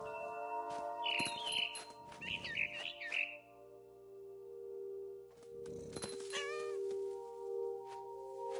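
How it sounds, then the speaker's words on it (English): Quick series of high barn swallow chirps and tweets in two bursts, a pause, then more rising chirps over a constant electronic hum, in the video game What Remains of Edith Finch. "I heard chirping outside my window. It was a barn swallow"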